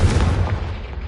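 A fiery Confringo spell blast in the Hogwarts Legacy game lands as a deep, loud boom that rumbles and fades over about a second, with no voices.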